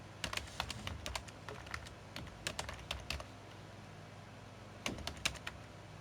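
Typing an email address on a computer keyboard, with quick close bursts of keystrokes in uneven clusters and short pauses between them, no talking.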